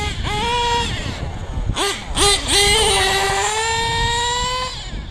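Traxxas Platinum Revo nitro RC truck with a PICCO .21 engine screaming at high revs, pitch climbing sharply in bursts with brief throttle lifts before a long sustained wail, loud and close.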